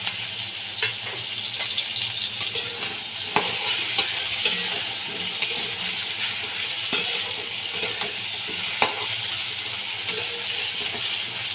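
Peeled taro pieces frying in hot oil in a pan for a hilsa fish dish give a steady, close sizzle, broken by scattered clinks and scrapes of a spoon stirring, with no talking.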